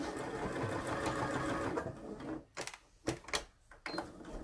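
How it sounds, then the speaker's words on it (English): A sewing machine runs in a steady continuous whir while stitching across the end triangles of a bound buttonhole, then breaks into short stop-start bursts of stitching, near and clear with no talk. "I'm just going to stitch this really quickly across the triangles on each end."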